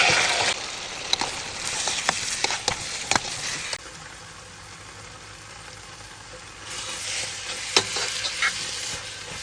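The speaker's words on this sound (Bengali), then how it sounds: "এটাতে তেল দিয়ে আর পেঁয়াজ দাগানি করে এটা বাগার দিয়ে দিব। তো পেঁয়াজ দাগানি মাংসগুলো আমি ঢেলে দিব।" Meat frying in oil with browned onions, a loud continuous sizzle with sharp stirring clicks and scrapes near the pan, easing to a quieter hiss midway before flaring up again.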